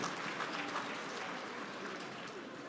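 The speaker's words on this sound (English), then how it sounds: "So let's give V. Bozeman another round of applause." Another round of applause for V. Bozeman at an annual awards gala, a steady crowd clapping that runs throughout and sounds faint and distant.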